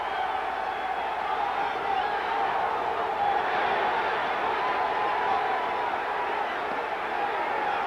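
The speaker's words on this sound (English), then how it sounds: "Crowd trying to pick Whitaker up." A boxing arena crowd roars steadily to lift Pernell Whitaker in his lightweight fight against Alfredo Layne, a sustained distant wash of cheering with a commentator's voice over it.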